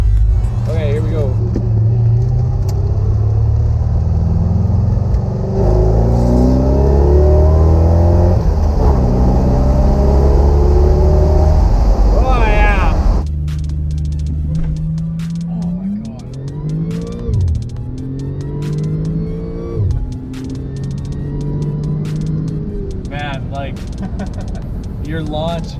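A car launches hard and accelerates through the gears, its engine note climbing in stepped harmonic sweeps with a gear change midway, loud and close, with people talking over the interior engine roar.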